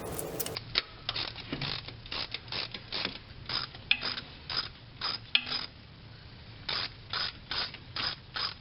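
Ratchet wrench loosening the four 12mm-head bolts on the AC compressor of a 1987 Toyota 4Runner with a 22RE engine, heard as repeated close bursts of clicking pawl ratcheting with brief pauses between strokes, no talk.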